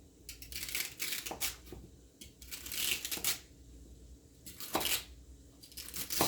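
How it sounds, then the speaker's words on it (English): A knife chops through two celery stalks on a cutting board, a run of quick crisp crunchy cuts coming in uneven bursts with short pauses, close and fairly quiet, no talking. "I'm going to cut this up and put it in there."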